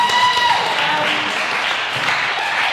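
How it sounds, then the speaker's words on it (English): An audience claps steadily as a round of applause, a dense even patter sustained for a few seconds with a voice briefly heard at the start. "give that a round of applause"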